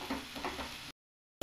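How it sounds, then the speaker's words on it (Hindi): Chicken browning in ghee for a desi black-pepper chicken karahi, a steady close sizzle with stirring scrapes for under a second before the sound cuts out. "इसके हम तकरीबन 4 मिनट पूरी अच्छी तरह भुनाई करेंगे इसमें घी में।"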